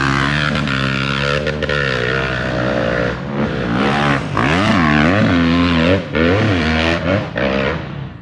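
Honda CRF250F dirt bike fitted with a FOCO F2 racing exhaust, revving repeatedly with rising and falling engine pitch, loud and close, with sharp throttle blips in the second half.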